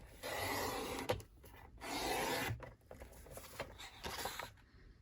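Scissors cutting patterned paper for a handmade card: close, quiet rasping and rubbing strokes in a few uneven bursts, with no one talking.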